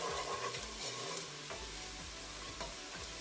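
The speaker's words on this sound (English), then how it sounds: "we'll stir that honey in there good" Honey being stirred into a pot of spicy chicken and tomato curry, with a spoon scraping and sloshing through the thick mixture over a steady low sizzle, close and moderately quiet.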